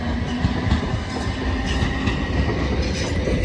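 Trains roll through Clapham Junction with a steady, dense roar of wheels and rail noise. Faint clickety-clack comes through it, close and continuous throughout.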